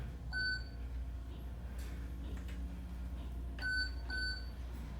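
Schindler Haughton traction elevator chiming as it passes floors, two clear electronic beeps near the start and two more near the end, sounding over a steady low cab hum.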